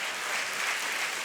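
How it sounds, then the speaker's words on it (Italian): A short stretch of steady crowd applause in an Italian setting, dense even clapping from many hands at moderate loudness. "Fate un bel applauso"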